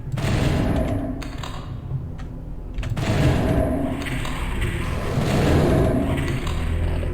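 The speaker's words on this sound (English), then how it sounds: "Got explosions." Explosions in the video game Doom 64 boom loudly and continuously, with dense low rumbling blasts layered one over another for the whole stretch, and no talk over them.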